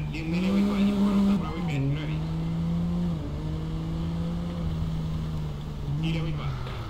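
A rally car slides and skids in Colin McRae Rally 2005, its engine holding a steady drone with a brief tire squeal as it drifts, while someone talks over it.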